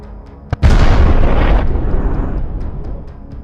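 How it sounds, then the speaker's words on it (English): A sharp crack followed by a heavy, rumbling blast as cluster munition submunitions strike a field near Andriivka, Ukraine; the boom rolls on and slowly fades over a few seconds, with faint ticking in the background. "footage shows a series of explosions after submunitions from cluster bombs hit the field."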